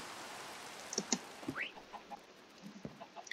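Several chickens in Minecraft cluck and squawk in short, scattered bursts over a quiet background, with one rising squawk in the middle.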